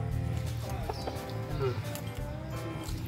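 A sweater gamecock rooster clucking at a seller's place, short soft clucks and a brief squawk near the middle, faint against a background of low murmuring voices and farm ambience.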